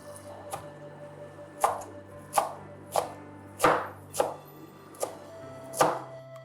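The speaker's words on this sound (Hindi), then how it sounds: "जितनी देर इसका पानी खुश्क होता है मैं खुरफे का साग काट लेती हूँ" A knife chops khurfa (purslane) greens on a board in a home kitchen, about eight distinct, fairly loud thuds at an uneven, unhurried pace, alone without talk.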